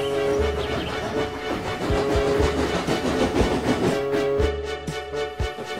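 A steam-era goods train rolls along the rails with a steady heavy rumble, rhythmic clanking and clattering of wagons, and a few sharp knocks, fairly loud and continuous, with no talking.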